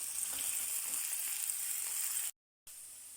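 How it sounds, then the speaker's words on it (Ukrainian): Steady, bright sizzle of potatoes frying in a skillet for ojakhuri, potatoes with meat, with a brief moment of silence before the crackling resumes. "будемо обжарювати картоплю до готовності"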